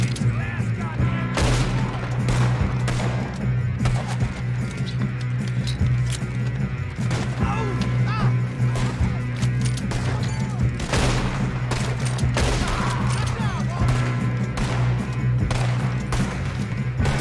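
Gunfire in the western video game Red Dead Redemption 2, sharp close rifle and revolver shots cracking in an irregular volley over a steady low hum, with occasional shouted voices.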